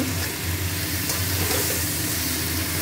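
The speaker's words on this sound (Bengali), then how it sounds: "এই রান্নাটা পুরো এরকম কষাতে কষাতেই হবে।" Steady sizzle of vegetables being sautéed and stirred in a pan: potato, pumpkin, beans, Malabar spinach stems and aubergine, a continuous close hiss with no talk.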